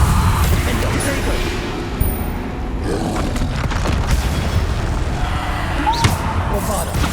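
Bombarda explosion spells go off during combat in the Hogwarts Legacy video game, with dense, rumbling bursts and thuds layered over constant battle noise and a few sharp impacts.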